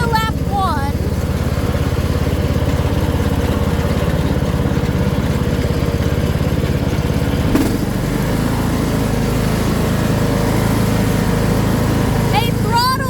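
A Troy-Bilt or Craftsman lawn mower engine runs steadily and loudly nearby, a constant buzzing drone that shifts pitch briefly midway, with wind buffeting the microphone.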